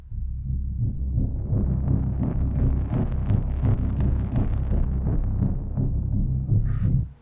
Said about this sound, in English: So I spent at a certain point a lot of time making all these sounds with Make Noise,